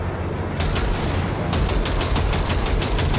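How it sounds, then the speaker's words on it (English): Rapid, repeated gunshots from the video game Cyberpunk 2077 crackle in dense bursts over a constant low rumble, aimed at a train car coupler, growing busier partway through with no voices. "Shoot at the train car coupler"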